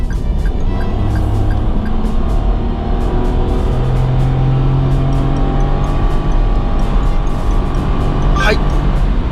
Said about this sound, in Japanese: 合流なんですけど、40キロから制限速度の80キロまで加速します